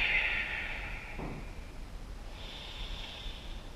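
A breath pushed out through the nose in a short snorting exhale during a splits and hamstring stretching routine, followed by quieter breathing, close and soft against faint background hiss.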